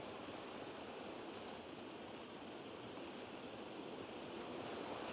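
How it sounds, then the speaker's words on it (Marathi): Heavy monsoon rain and streams of water flow everywhere on the Padargad trek, making a constant, even roar of pouring water and rain, with no one talking. "नुसतं सगळीकडनं आता नुसतं काही पाणी वाहतंय, धबधबे"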